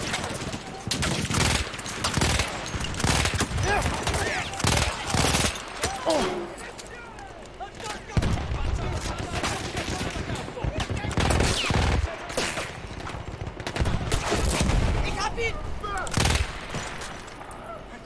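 Submachine-gun bursts crack repeatedly in the Battlefield 1 Italian campaign mission, with steady clusters of shots across the battle and someone talking at times over the shooting.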